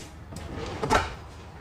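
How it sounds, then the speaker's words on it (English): A slow-closing drawer in a Riverstone Reserve 3670RL luxury fifth-wheel RV glides shut with a soft sliding rush that ends in a gentle, muffled thump, heard close up with no talking. "All slow closing drawers."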